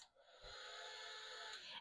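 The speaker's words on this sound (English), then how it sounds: "I'm just going to take my heat embossing gun." A heat embossing gun blowing: a steady, breathy whoosh of air with a faint whine, running continuously for over a second before cutting off; quiet and close.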